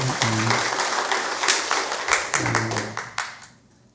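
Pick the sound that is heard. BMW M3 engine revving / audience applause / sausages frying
audience applause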